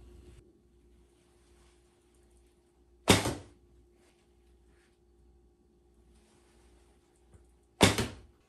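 Two sharp, loud thunks of arrows striking a target during bowhunting practice, landing about five seconds apart with quiet outdoor background between them and no talking.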